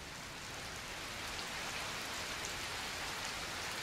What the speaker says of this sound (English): now I can make the rain fall again.